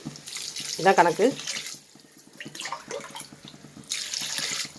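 Water poured into a pot of sautéed onion and prawns for prawn biryani, a soft running splash that comes and goes between short bits of talk.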